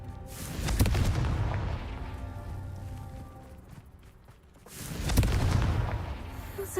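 Two heavy blasts from the Confringo fire spell in Hogwarts Legacy, the game set in a cave, each a deep booming burst that fades slowly, about four seconds apart, with no talk over them.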